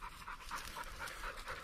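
A hunting dog pants rapidly and steadily close by during an upland bird hunt in Montana, its quick breaths repeating in an even rhythm over outdoor background noise.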